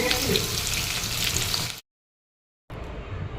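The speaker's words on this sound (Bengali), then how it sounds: "আর এইদিকে মাংসটা এখন ভাজা চলছে" Chicken pieces for dry chilli chicken fry in a pan with a close, busy sizzling hiss, cut off by a short silent gap before the frying resumes.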